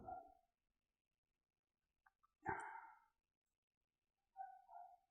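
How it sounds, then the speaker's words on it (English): A dog barking inside an apartment, faint and somewhat distant: a short bark, then a louder drawn-out bark after a pause, and a final pair of whiny yelps, with silence between them. "I hope you can't hear that dog on the mic, but maybe you can."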